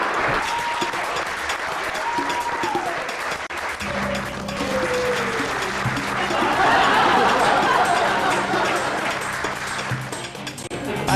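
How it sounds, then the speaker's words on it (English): Steady audience applause at a business event, a dense wash of clapping that holds loud throughout and swells midway, with crowd chatter and a little laughter mixed in. "Big round of applause for her."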